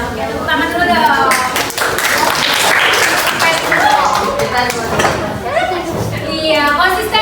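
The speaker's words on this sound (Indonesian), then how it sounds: "Oke, tepuk tangan dulu dong." Junior high school students at SMP Negeri 1 Cibinong applaud together during a counseling session, a steady wash of clapping mixed with children's chatter and voices talking over it throughout.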